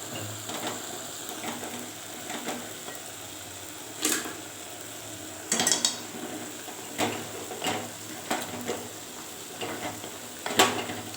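Tongs scrape and clank in a pot of thick, simmering greens at irregular intervals over a soft, continuous simmering background.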